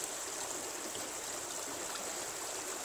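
River water flows steadily past Landacre Bridge on Exmoor, a constant, even hiss of moving current with no voices.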